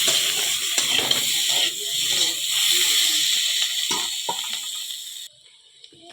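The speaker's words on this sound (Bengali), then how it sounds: "আর লবণ হলুদ দিয়ে আর একটু ভেজে নেব।" Potatoes and eggs frying in a pan with salt and turmeric give off a steady hiss. Scraping and clattering stir strokes sound over it until the sizzle cuts off near the end.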